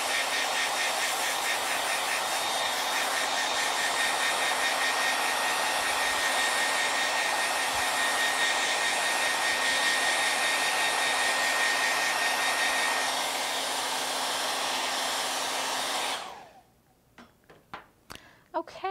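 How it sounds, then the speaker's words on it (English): A hair dryer blows steadily on freshly painted canvas at a live paint night, a loud, close, even whir lasting about sixteen seconds before it cuts off, leaving a few faint knocks and handling sounds. "I'm going to go ahead and take my blow dryer again and then blow dry this really quickly."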